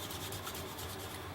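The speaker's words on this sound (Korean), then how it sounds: "몸통을 한 번씩 이렇게 400번 사포로 다듬어 줍니다" Sandpaper of 400 grit rubbing over a wooden fishing-float body, a steady close scratchy hiss with faint back-and-forth strokes, continuous and unbroken, with no voices.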